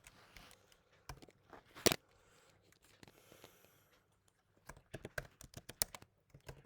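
Someone types code on a computer keyboard, with irregular clusters of sharp key clacks and pauses, including one heavier strike, close and fairly quiet.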